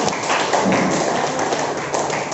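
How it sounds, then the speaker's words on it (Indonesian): Classroom audience clapping for a student after a presentation, a dense, steady applause from many hands lasting a couple of seconds, close and fairly loud. "Kita berikan dulu aplaus buat Luciana."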